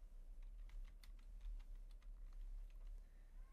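Someone types a search into Google on a computer keyboard, giving soft, quick key clicks over a low hum, faint and close.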